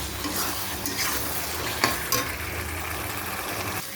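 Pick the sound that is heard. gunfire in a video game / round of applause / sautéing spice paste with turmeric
sautéing spice paste with turmeric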